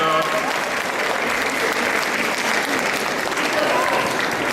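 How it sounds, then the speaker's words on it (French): Audience applause at the Japanantes 2012 cosplay show, honoring a cosplayer standing alone on stage; dense, steady clapping from a crowd fills the whole stretch at an even level. "N'hésitez pas à l'applaudir, la pauvre elle est toute seule sur scène."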